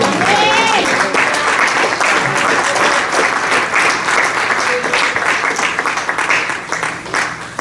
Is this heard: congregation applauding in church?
yes